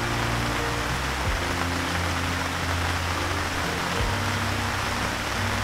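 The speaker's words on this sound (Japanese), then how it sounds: "案外雨ひどいっすよ今日" Heavy rain at Fumotoppara campsite pours in a steady, dense hiss, loud and close throughout, with a faint low hum beneath and no voices.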